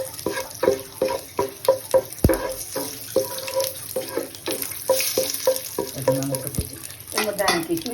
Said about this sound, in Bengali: একটা তেজপাতা ছাড়া, শুকনো লঙ্কা একটা, এক মুষ্টি আস্ত জিরা আমি এর মধ্যে দিয়ে নাড়াচাড়া করবো